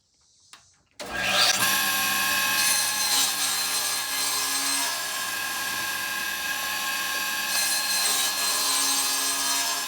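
Power saw cutting a 2 by 2 wooden board: after a short quiet start, a loud sustained whining cut through the wood runs steadily for about nine seconds.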